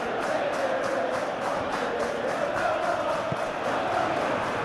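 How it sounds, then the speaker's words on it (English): A simulated stadium crowd in PES 2021 roars steadily at a Chelsea versus Manchester City match, a dense, even wash of cheering with a faint rhythmic pulse, moderately loud and continuous. "Well, the crowd clearly like what they just saw."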